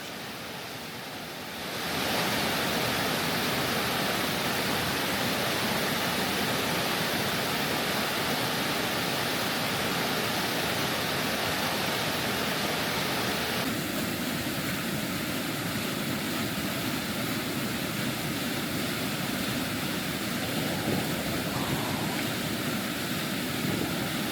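River water flows steadily, a continuous broadband rush that rises suddenly after a quiet start and holds at an even, full level, close and loud, with no voices.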